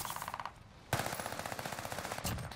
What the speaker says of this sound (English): You just found the best SMG in Warzone, and it's the Armaguerra 43.